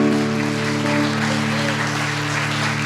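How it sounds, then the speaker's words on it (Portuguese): A church congregation claps loudly and steadily throughout, with sustained organ or keyboard tones holding underneath the applause. "Vamos aplaudir bem forte ao nome do Senhor Jesus."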